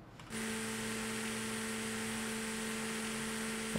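A car polisher runs in Car Dealership Simulator while polishing an old Fiat Tipo, starting after a brief pause and then holding a steady electric whine and hum at an even level, with no voices.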